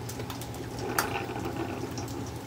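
Sugar-free hazelnut creamer poured into a coffee cup, a steady close liquid trickle with a soft splash near the middle, alone and without speech.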